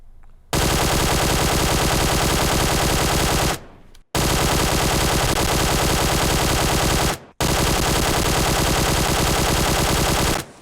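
QBZ assault rifle fitted with an angled foregrip firing in PUBG Mobile, three long sustained bursts of rapid automatic fire, loud and close, each cut off by a brief pause.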